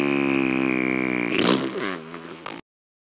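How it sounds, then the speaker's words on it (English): A long buzzy fart, starting as a loud steady tone and breaking into wobbling, sputtering flutters before cutting off abruptly, close and alone with no talking. "Hulk fart."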